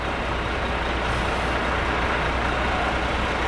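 Cargo truck idling at a port entrance inspection point, a steady loud broadband engine rumble with strong low-end throb, continuous and close throughout.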